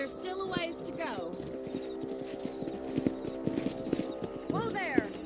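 Horses in the Red Dead Redemption video game trot along with rhythmic hoof clip-clops under a continuous musical drone, a neigh rising near the start and again near the end, with spoken dialogue woven in.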